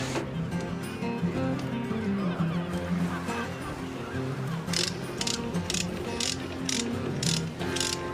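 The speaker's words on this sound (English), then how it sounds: "Beautifully greased up nuts and a lovely greasy ratchet." A greased ratchet tightening nuts on a new bearing, clicking in quick steady runs of pawl ticks, close and fairly loud, with a faint background of birds and outdoor ambience.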